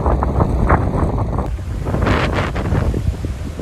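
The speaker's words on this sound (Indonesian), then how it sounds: "mendaki di musim kemarau anginnya seperti ini kawan" A strong dry-season wind roars across a hiking trail in Lembah Lohe, Gowa, South Sulawesi, buffeting the microphone with a loud, continuous low rumble and gusty surges, no voices.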